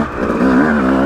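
A Yamaha YZ250 two-stroke dirt bike engine lugs at low revs in third gear off-road, climbing slightly uphill; a steady, close, throaty drone that swells a little partway through, with no talk.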